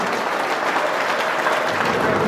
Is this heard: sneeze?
no